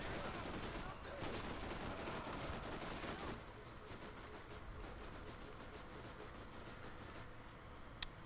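Gunfire blazes in the Borderlands shooter game during a charge, with a dense, rapid, continuous stream of shots that thins out after a few seconds into scattered pops under a quiet voice.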